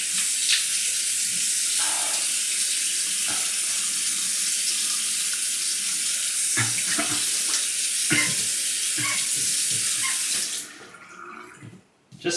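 A razor blade is rinsed under a running bathroom tap, a steady close splashing hiss of water broken by brief clatters as the razor moves through the stream, until the flow shuts off near the end.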